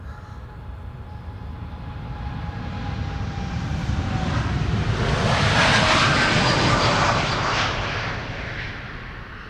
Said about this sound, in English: United, Dreamliner, flight 908 to Chicago O'Hare.